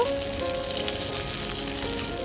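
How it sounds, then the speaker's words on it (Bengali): Chopped garlic sizzles and fries steadily in a pan of oil with dried chilies, prepared for a stir-fried jute leaf dish; a loud, continuous crackle with no voices. "তারপরে আমি রসুন কুচি দিয়ে দিব"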